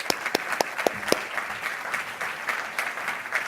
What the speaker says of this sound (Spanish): Y un aplauso para el gobernador.